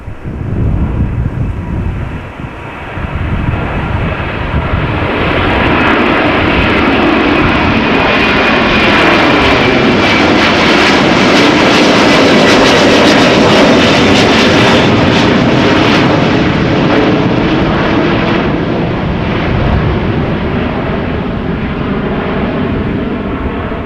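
Aircraft engines at windy Amsterdam Schiphol Airport, a loud jet roar swelling and sweeping past with a shifting whine, buffeted by wind noise on the microphone.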